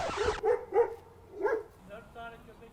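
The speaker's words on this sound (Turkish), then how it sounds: "Köpekler" A few short video-game dog barks and yips in a row, fairly close, with a soft whimpery tone between them.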